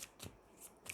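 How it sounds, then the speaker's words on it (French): Tarot cards being shuffled and drawn in quick papery bursts, three short riffling swishes spaced across a second, close and fairly quiet with no voice. "Je vais prendre 3 cartes."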